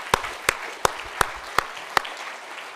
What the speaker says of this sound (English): We should give you another round of applause.